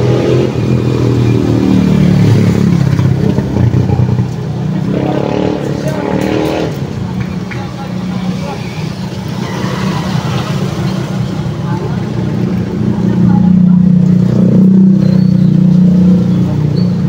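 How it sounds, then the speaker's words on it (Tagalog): Motorized tricycles rumbling past on a wet street after heavy rain, with loud continuous engine drone and revving that swells and fades as they pass close by, plus some clatter. "Dami na rin sumasakay yung mga tricycle, oh."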